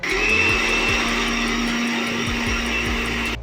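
A kitchen blender purees roughly chopped mango with a steady, loud motor whir that holds for several seconds and then stops.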